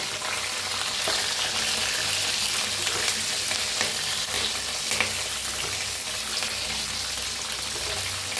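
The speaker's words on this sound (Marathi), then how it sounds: "वरनं थोडा कढीपत्ता मिरचीला जरा हलवून घेऊया" Curry leaves and green chillies sizzle steadily in hot oil in a frying pan, a close, continuous crackling hiss with occasional scrapes as they are stirred, and no voices.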